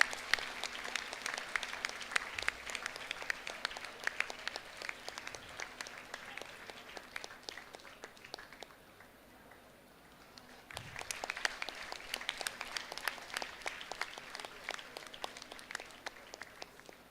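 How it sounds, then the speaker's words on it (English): A hall audience at a college career conclave claps through a long round of applause, a busy crackle of many hands that thins to a brief lull midway, then swells again and carries on to the end without speech. "Please give a big applause."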